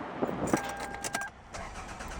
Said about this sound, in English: I was really worried my car wouldn't start.